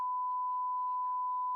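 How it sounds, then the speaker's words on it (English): A steady, loud pure tone of a censor beep runs unbroken for the whole stretch, with faint traces of talk beneath it. "I'll beep it out for sure."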